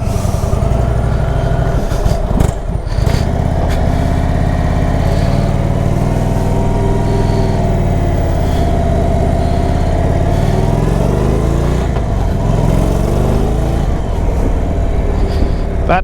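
Indian motorcycle on the road, its engine droning loud and steady with rising and falling pitch as the rider changes speed, heavy wind rush throughout.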